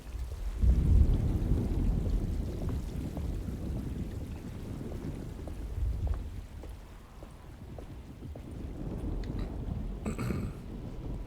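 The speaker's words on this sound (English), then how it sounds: "Just keeping an eye out for the storm. Radio says it could be a wild one." A thunderstorm with rain in the video game Alone in the Dark: low rumbling thunder and steady rain noise with gusty wind, swelling and fading over several seconds, with no talking.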